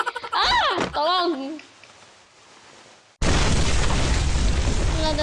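A grenade blast in the battle-royale game Free Fire bursts in abruptly as a loud, dense boom that fills the sound and holds steady, coming right after a short stretch of excited talk.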